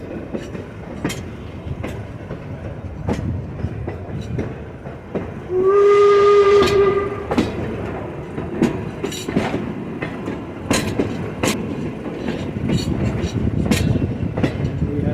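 A Lincoln funeral commemoration train pulls in with rhythmic clicking of wheels over rail joints, and a loud whistle blast rises midway through the steady rolling rumble.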